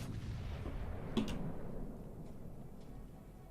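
A single heavy ship cannon boom in a naval video game rings out over a constant low rumble of game ambience, followed by a fading roll.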